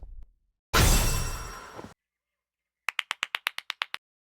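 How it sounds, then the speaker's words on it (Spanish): A clap ability in the Roblox game Ink Games: a loud whooshing burst, then after a pause a quick run of about ten sharp, evenly spaced claps, with no talking. "hace un aplauso que intercambia de lugar con el jugador más cercano"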